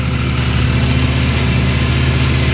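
Swaraj 744 tractor engine driving a Shaktiman mobile shredder cutting castor stalks in a farm field, a loud, steady diesel chug with a low rumbling drone, close and continuous, no voices.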